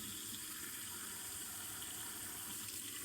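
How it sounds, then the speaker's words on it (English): Cold tap water runs steadily from a faucet to fill a Brita filter, a constant, even hiss and gush with no pauses. "I will fill the Brita filter."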